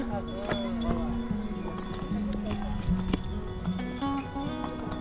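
Hooves clip-clop in a steady walking rhythm as horses walk on a mountain trail in Pahalgam, Kashmir, with voices and other outdoor sounds mixed in.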